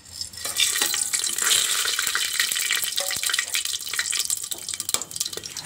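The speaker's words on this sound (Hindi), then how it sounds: "तड़का तड़क चुका है" Whole spices tempering in hot oil for a chhole curry, with two cloves, cinnamon, black pepper, shahi jeera, dried red chillies and bay leaves crackling and sizzling in a steady, close, fairly loud hiss with scattered pops and no talking.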